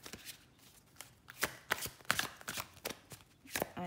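Tarot cards are shuffled by hand in a steady run of crisp riffles and slaps, fairly quiet and close, with no voice over the sound.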